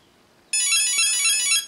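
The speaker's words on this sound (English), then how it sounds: "it gave us a confirmation beep" A Castle Creations ESC sounds a confirmation beep during throttle endpoint programming with a JR X9303 transmitter: one sustained, bright electronic tone that starts suddenly after a brief quiet pause and holds for about a second before cutting off.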